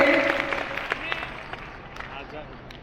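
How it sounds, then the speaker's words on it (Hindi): An audience claps in a large meeting hall in Patna, a round of applause that starts fairly full and thins out over a few seconds, with scattered claps and some faint voices under it. "मैडम के लिए एक जोरदार ताली।"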